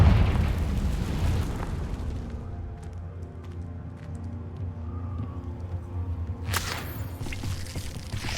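Confringo fire spell in Hogwarts Legacy: a loud burst at the start decays into a low rumbling tail, then a second sharp crackling blast near the end, with no talk over it.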